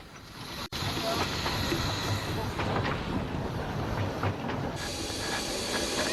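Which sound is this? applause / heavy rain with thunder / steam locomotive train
steam locomotive train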